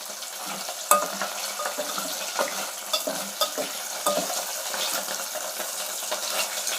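Onion pieces fry in a pan with dried fish pieces browned to a golden colour. A bright, crackling sizzle is broken by frequent scraping stirs of a spatula, with no talking.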